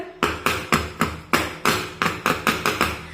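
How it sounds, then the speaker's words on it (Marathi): A dish of rava dhokla batter being tapped on a surface to settle it: about nine sharp, close knocks in an even rhythm, each with a short ring, and no talking. "बॅटर थोडंसं असं टॅप करूया"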